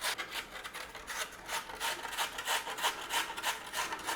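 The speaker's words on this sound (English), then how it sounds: "Just grate your potato." Potato being grated by hand on a grater, a steady series of rough rasping strokes, close and fairly loud, with no talking.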